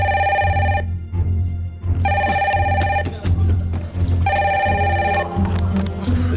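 An electronic telephone in a reality show house rings in repeated loud bursts, each bright warbling ring separated by short gaps, with a low background hum throughout.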